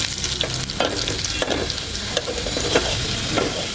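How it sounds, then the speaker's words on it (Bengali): Whole cumin seeds, dried chilies and garlic fry in hot oil as a tempering for lentil dal, giving a steady, crackling sizzle with small pops and stirring scrapes close by. "আমার তেলটা গরম আছে, আমি কটা আস্ত জিরে দিয়ে দেবো"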